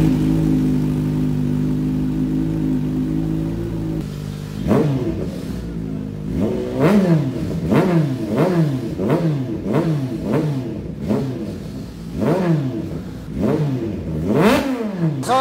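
A Kawasaki Z H2 motorcycle fitted with a dual exhaust idles steadily, then is revved repeatedly in quick, loud, close bursts that rise and fall in pitch.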